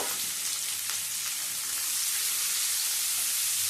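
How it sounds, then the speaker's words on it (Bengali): Chopped onion sizzles in hot oil left over from frying potatoes for a raw jackfruit do pyaza, a steady close crackling hiss with no one speaking. "আলুগুলো ভেজে তুলে নেওয়ার পরে যে তেলটা ছিল সেই তেলের মধ্যে দিয়ে দিচ্ছি পেঁয়াজটা দিয়ে পেঁয়াজটা ভেজে নেব"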